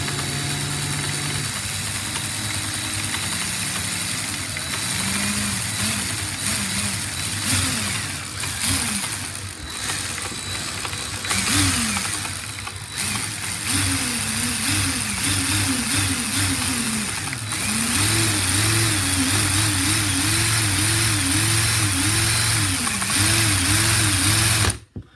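A LEGO DOHC 45° V-twin engine model runs at a higher speed, a close mechanical whirring and clattering with a rising and falling motor whine that steadies into a fast, even, repeating hum before cutting off abruptly.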